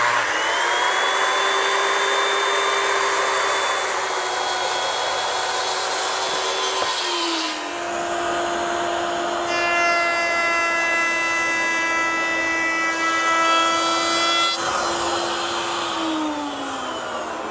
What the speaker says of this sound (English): I've installed a straight edge to help guide my circular saw.